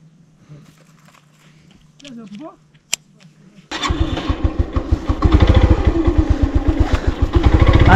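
An old, worn GMI motorcycle engine kicks into life after some quiet handling noises, catching abruptly and settling into a loud, pulsing, throbbing run close by.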